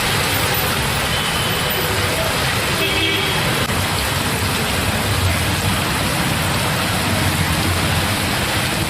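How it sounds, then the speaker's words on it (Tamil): Heavy rain pours steadily onto roads in Tamil Nadu, a dense, continuous hiss that holds loud throughout with a low traffic rumble underneath and no pauses. "சுமார் 1 மணி நேரத்திற்கு மேலாக மழை பெய்தது"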